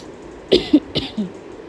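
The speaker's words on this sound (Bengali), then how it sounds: "এই যে কাশি হচ্ছে আমার" A person with a cold that has lasted about two weeks coughs in a quick series of four short, close bursts, with brief quiet gaps between them.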